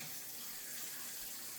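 Hot tap water runs steadily from a kitchen faucet into a pot, a continuous even rush with no pauses, close and moderately loud throughout.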